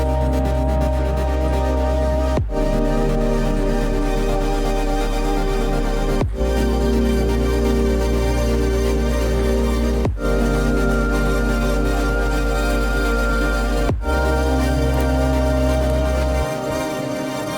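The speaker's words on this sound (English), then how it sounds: "I'm gonna show in this video how to build a ducking chain with VCV rack" A sidechain ducking chain built in VCV Rack, a loud sustained synth drone that dips sharply about every four seconds as the ducking kicks in, a regular pumping rhythm with no talk.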